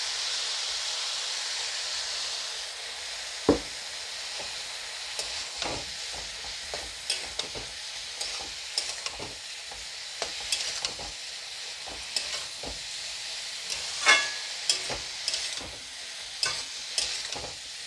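Spices sizzle steadily in a hot pan for an Assamese fish curry with cabbage, with repeated scraping and clinking strokes of a spoon stirring throughout, fairly close and alone without talk.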